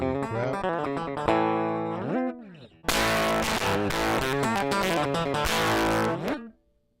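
Heavily distorted guitar-like tones from a Neve microphone preamp overdriven by a power amp, loud and continuous with chordal stabs, a brief dip near three seconds, then a dense crunchy burst that cuts off abruptly near the end.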